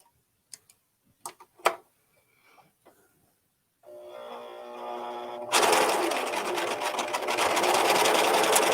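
An Amber S|100 overlock sewing machine, a few faint ticks and clicks first, then the motor whirs up and runs steadily with a fast rhythmic stitching clatter, close and loud, no talking.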